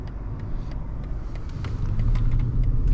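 A 2023 BMW 760i with a V8 engine accelerates from a roll, its low engine rumble and road noise building steadily louder and nearer, with no talking.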